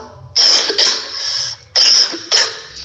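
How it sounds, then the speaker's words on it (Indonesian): Two loud, close bursts of coughing from a person sick with flu, each a pair of harsh hacks about a second apart, with near silence between. "Maaf ya kalau ada suara batuk."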